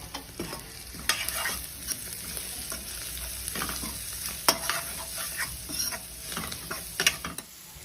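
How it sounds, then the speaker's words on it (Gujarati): Spices such as coriander-cumin powder and garam masala are stirred into frying masala in a pan, with rhythmic scraping and ticking spatula strokes over a soft sizzle and no speech. "હવે આપણે મિક્સ કરી દઈશું।"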